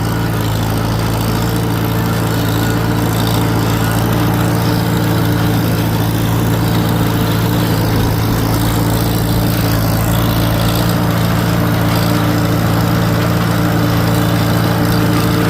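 An antique tractor's engine drones loud and unbroken as it cuts a field, a heavy, steady low rumble held close for the whole stretch.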